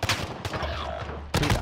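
Sharp pistol shots from a Call of Duty Modern Warfare gunfight match, a few loud cracks at the start and another burst at the end, close and punchy.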